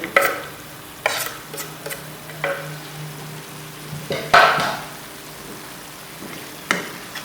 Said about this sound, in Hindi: अच्छी तरह भूनेंगे।